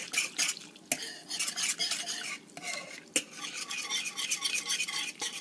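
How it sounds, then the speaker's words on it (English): A whisk clatters briskly against a bowl while mixing an extra sharp cheddar dipping sauce, a steady close metallic scraping and tapping with a few sharper knocks, no voices. "And then just start whisking it."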